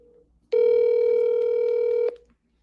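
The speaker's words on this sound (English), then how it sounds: "If you can hear me, I'm going to call you back on my cell phone." A cell phone places a call: one steady tone sounds for about a second and a half, then cuts off sharply, with faint room sound before and after.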